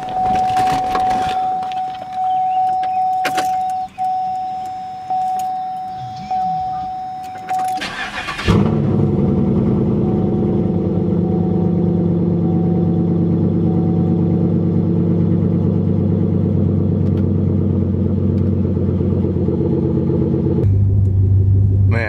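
A car engine cranks and roars to life, then settles into a loud, deep, steady rumbling idle that continues throughout.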